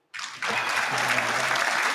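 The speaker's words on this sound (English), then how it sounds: "clap it up for Joe Nieves." A crowd claps in enthusiastic applause that starts abruptly and builds to a dense, steady roar of hands, fairly close, with no speech over it.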